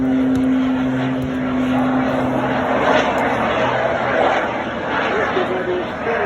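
A historic propeller aircraft flies over an English Riviera airshow, its engine drone loud and steady throughout, while a commentator talks over the public address.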